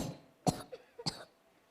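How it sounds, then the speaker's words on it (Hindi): Two sharp coughs about half a second apart, with a small throat sound between them, from a woman playing a mother in a Hindi school skit by first and second graders on Grandparents Day. The coughs are fairly close, in a quiet room with no talk. "माँ अचानक खांसने लगी"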